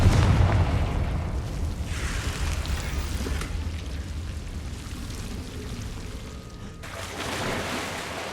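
A fiery blast spell in the Hogwarts Legacy video game goes off with a loud initial boom, then a rumbling, crackling decay, and a second softer burst swells near the end.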